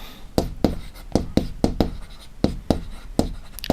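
Chalk or marker strokes on a classroom board come as a series of sharp, distinct taps and scrapes in an irregular rhythm, close and fairly quiet, with no talk over them.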